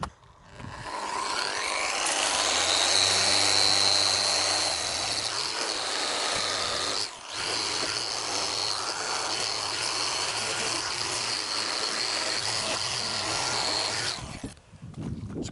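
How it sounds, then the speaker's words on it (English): A power sander fitted with 80 grit paper buffs a car body panel, stripping tape residue and rust on an Alfa Romeo 159, a steady loud whirring whine that runs almost continuously with one brief dip midway before stopping at the end. "I've got a 80 grit on the sander, and we're just going to give it a light blast"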